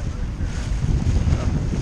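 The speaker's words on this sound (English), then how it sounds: "Yep, still pretty windy." Steady wind buffets a sailboat out on calm water off Martha's Vineyard, a continuous low rumble of wind noise against the microphone that lasts throughout without any voices.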